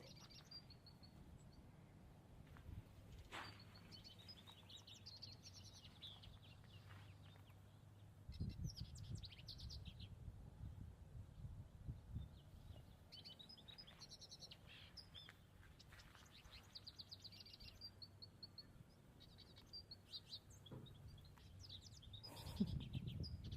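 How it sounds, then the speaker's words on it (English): Garden birds chirp and trill outdoors, scattered faint calls on and off throughout, over soft rustling and handling noises nearby. "Birds are amazing."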